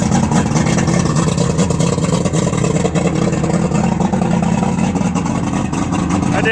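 Boat motor idling on a 1998 Stratos 201 Pro Elite bass boat, a steady, fairly loud low rumble that holds evenly throughout with no talking.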